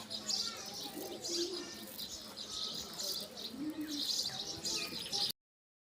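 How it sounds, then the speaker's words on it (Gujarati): Pigeons coo in soft, repeated throaty calls while being fed grain, several birds close by with overlapping coos and occasional chirps forming a steady murmur. "કબૂતરો જોઈ લો મારા ભાઈ પાસે કેટલા કબૂતર બેઠા છે"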